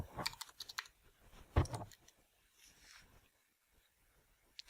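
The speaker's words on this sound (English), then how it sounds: "I'm going to type in testing 1." Computer keyboard keys tapped in a short burst while entering a post title in a WordPress editor, quick close clicks with a louder cluster early on, then sparse faint taps and near silence.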